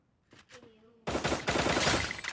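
Rapid automatic gunfire in a Free Fire-style mobile shooter game bursts in suddenly after a brief spoken phrase, a dense continuous loud volley lasting over a second.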